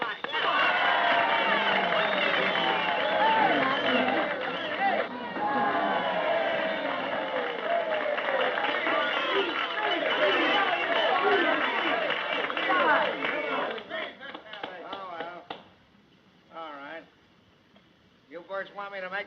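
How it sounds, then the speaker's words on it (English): A banquet crowd in a 1931 film breaks into loud, sustained clapping and cheering that fills most of the stretch, then thins out and stops as a few voices speak. "Come on, everybody, clap like."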